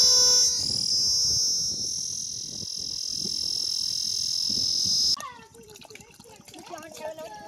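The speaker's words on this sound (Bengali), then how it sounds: "দেখো এই গাছে ঝিঝি পোকা কিরকম ডাক দিচ্ছে দেখো।" Cicadas in a tree beside a Sundarbans river give a shrill, steady drone for about five seconds before it cuts off, while people talk in the background.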